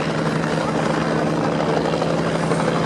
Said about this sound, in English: you can see the helicopters performing the manoeuvre known as a quick stop